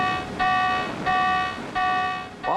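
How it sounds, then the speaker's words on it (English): A US aircraft carrier's klaxon sounds to call the crew to battle stations, three loud, evenly spaced electronic tones, each about half a second long, followed by the start of a fourth. "you hear that bong, bong, bong, bong going, the klaxon going off"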